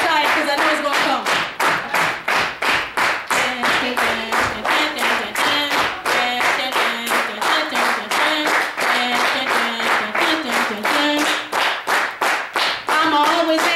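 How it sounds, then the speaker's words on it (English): A slam-poetry audience at a Black History Month event keeps up a fast, steady soul clap, sharp rhythmic hand claps repeating evenly throughout, close and loud, with a voice chanting or speaking over the beat. "a soul clap in the whole tune of Black History Month, but kind of a faster one"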